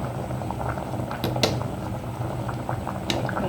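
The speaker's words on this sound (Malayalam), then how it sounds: "നാല് ഭാഗത്തും തിള വന്നിട്ടുണ്ട്." Fish curry at a rolling boil in a pot, made without ginger, garlic or onion, bubbling and popping steadily up close with a few sharper bursts, no voices.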